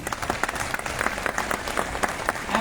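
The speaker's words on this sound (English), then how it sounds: "Can we have a loud round of applause, please?" An audience claps steadily after a talk on skill mastery, a dense, sustained round of applause filling the hall from start to finish with no voices over it.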